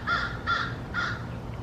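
Crows in Texas give three evenly spaced harsh caws, each short and fairly clear, then stop, heard alone with no voices over them.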